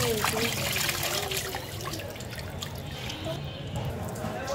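Meat is washed in water in a home kitchen, with steady splashing and trickling that comes and goes over a running background while someone talks through much of it.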